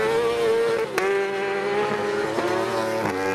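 Superbike motorcycles racing at Karlskoga, about 200 horsepower each, in a Norwegian championship race: a loud, steady high-revving engine wail with shifting pitch, close by, with brief gear-change blips.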